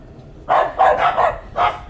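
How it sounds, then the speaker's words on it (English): Several dogs barking in the Philippines, four sharp close barks in quick uneven succession, loud and clear over a quiet background. "I don't know what these dogs are doing."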